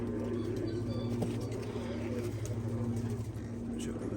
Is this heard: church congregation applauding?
no